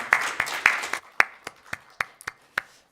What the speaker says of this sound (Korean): 우리 하나님 앞에 감사의 박수 드립니다